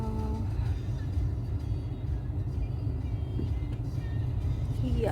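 Steady low road rumble and engine drone inside a moving car in Finland, continuous and fairly loud with no voices over it.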